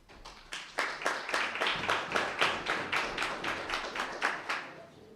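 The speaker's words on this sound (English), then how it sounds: "you all deserve a hand of applause" Rhythmic clapping at a blind cricket series closing ceremony and prize giving, steady evenly spaced claps in unison, roughly three per second, moderately faint and carrying over a low background.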